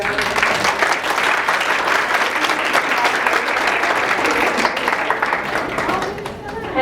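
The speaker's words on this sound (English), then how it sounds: "Another round of applause." An audience at a live-streamed event claps in sustained, dense applause that fades slightly toward the end.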